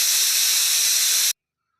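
A pressure cooker with lentils for dal inside lets off a loud, steady jet of steam hiss that cuts off abruptly into silence, close by with no talk.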